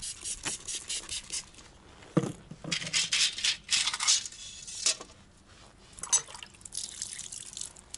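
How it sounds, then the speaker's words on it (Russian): Wet rubbing and scrubbing with drips and trickles of water as the moldings of a VAZ 2106 are washed in a garage, irregular bursts of wiping close by, no talking. "Ну, сейчас вот молдинги буду отмывать."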